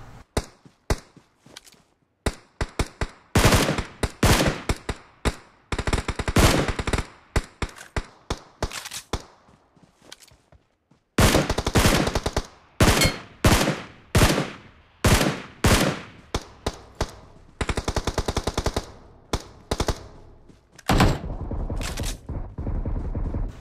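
Gunfire in the PUBG Mobile battle royale game comes in rapid automatic bursts and single shots, loud and close, with pauses between the volleys and no talk over them.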